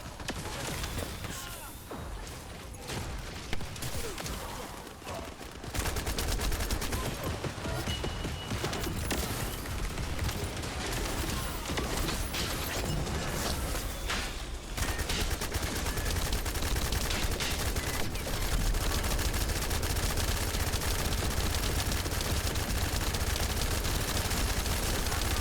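Weapons fire at a boss in The First Descendant, a loud, dense stream of rapid shots that runs almost without pause, growing heavier after the opening seconds.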